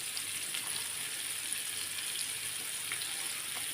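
Large fish pieces fry in a pan with a constant soft, hissing sizzle that stays even and close throughout, with occasional faint crackles.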